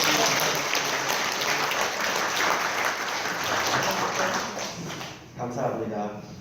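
A Sunday morning church congregation applauds to encourage its Filipino members, a dense steady round of clapping from many hands that carries on for several seconds before tapering off.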